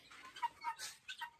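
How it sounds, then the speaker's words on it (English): Pigeons close by give a short run of soft, uneven coos and calls, with no talk over them. "These are pigeons. Right there. They are making some noise."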